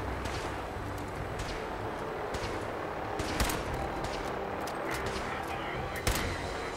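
Gunfire in Fallout 4 crackles through a dense, noisy battle, with scattered sharp shots and bursts at mid distance, a few louder cracks standing out, and a voice talking over it.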